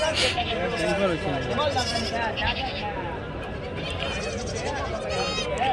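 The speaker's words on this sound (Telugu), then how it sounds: "కొదాలు ఇవి, పొట్టేలు కదా." Sheep and rams bleating repeatedly at a crowded livestock market in Andhra Pradesh, overlapping calls near and far over a steady background of crowd babble.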